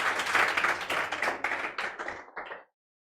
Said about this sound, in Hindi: चलिए तालियों से स्वागत कीजिए आरजू कुमारी